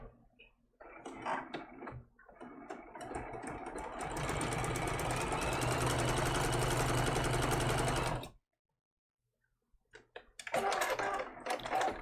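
A sewing machine runs a narrow zigzag stitch on a baby turtle quilt applique: a few short bursts, then several seconds of steady, close stitching that stops abruptly, followed by another brief run.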